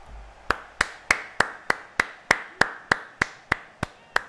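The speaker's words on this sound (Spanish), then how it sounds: "Aplausos." Applause in the FIFA 23 football game, heard as about thirteen single, crisp claps at a steady, even pace, each one sharp and separate with quiet gaps between, fairly soft overall.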